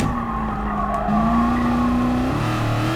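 Car tires squealing under late braking in Gran Turismo Sport, a loud sustained screech that shifts pitch over the engine's drone, running about three seconds with no talk.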